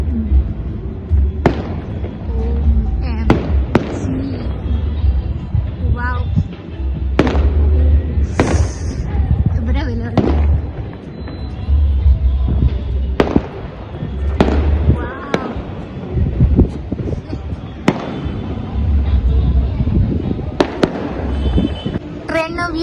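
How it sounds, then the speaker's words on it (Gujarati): Repeated sharp fireworks bangs burst at irregular intervals over a steady low rumble, some crackling, with voices talking in the background. "ફટાકડા જોવા મળી ગયા"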